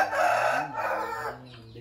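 A white chicken bought in Thailand crows loudly and close on a garden farm in Di Linh, one long drawn-out crow with clucking fowl around it.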